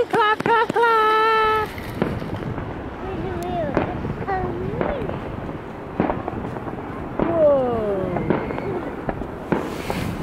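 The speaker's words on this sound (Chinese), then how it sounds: "我们要看烟火了，那边已经关灯了。" Winter fireworks show outdoors, with repeated sharp bangs and pops at uneven intervals over wind noise, while several people talk and exclaim excitedly throughout.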